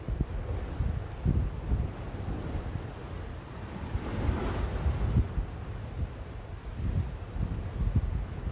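Surf breaks against the base of a sea wall in repeated heavy thuds and washing swells, loud and close, under constant gusting wind noise and without speech.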